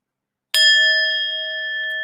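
A gong effect is played for a new channel member: one sudden metallic strike that rings out with a sustained, slowly fading shimmering tone, loud and alone after a moment of silence.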